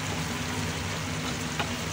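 Ampalaya con carne sizzling in sesame oil in a pan as it is stirred, a steady close frying crackle with a few faint utensil scrapes and a small clack at the end.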